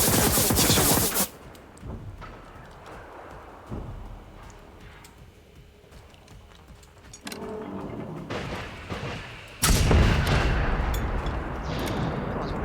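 Gunfire and rocket blasts in a shooter video game, loud bursts at the start and near the end with quieter rumbling action between, heard close and dominant.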